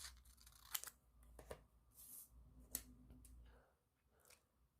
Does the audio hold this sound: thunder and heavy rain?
no